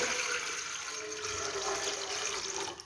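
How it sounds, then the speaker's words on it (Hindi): Water pours steadily into a large pot as the first step of making sharbat, a continuous close rushing splash that runs unbroken for a few seconds. "शरबत बनाने के लिए सबसे पहले हम यहाँ पे एक बड़े बर्तन में पानी शामिल करेंगे।"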